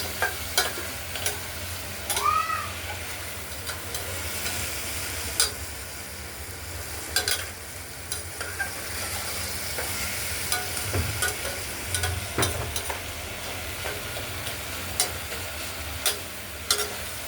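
Mung dal is stirred in a pressure cooker pan with salt added, giving a soft, steady scraping and faint sizzle close by, with occasional light clicks of the spoon against the metal.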